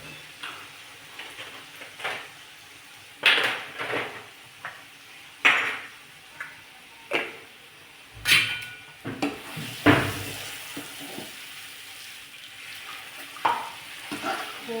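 Red chili and coriander powder are sautéed in oil in a pan as a spoon scrapes and knocks at irregular intervals over a soft, continuous sizzle, with nobody speaking.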